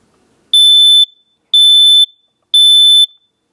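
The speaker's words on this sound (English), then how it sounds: "I bought them this new photoelectric smoke detector. It's high pitch." A new photoelectric smoke detector sounds three loud, high-pitched alarm beeps, each about half a second long, spaced evenly about a second apart in an otherwise silent room.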